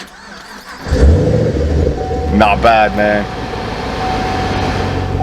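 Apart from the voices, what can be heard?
2013 Chevy Camaro ZL1 V8 engine startup and exhaust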